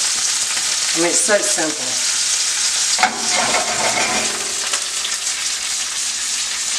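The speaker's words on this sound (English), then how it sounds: "I'll go ahead and throw in the butter." Butter sizzles with garlic pieces in a pan while salmon cooks, a loud, steady frying hiss with soft stirring scrapes, close by, as a person briefly talks over it.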